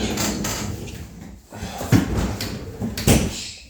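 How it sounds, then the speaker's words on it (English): A door is shut with a couple of solid thuds and bumps amid background rustle, heard close by in a room. "got to shut this door"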